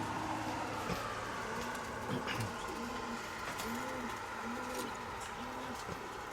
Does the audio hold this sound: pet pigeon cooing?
yes